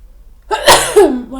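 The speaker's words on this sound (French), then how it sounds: "Ouh, je vais éternuer." A single woman's sneeze, sharp and close, with a short vocal exclamation trailing after it.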